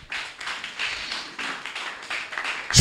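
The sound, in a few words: congregation applauding in church service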